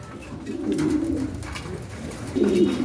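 Pigeons in a seller's loft coo in low, rolling phrases, two swelling bursts close by with steady background murmur and no voices.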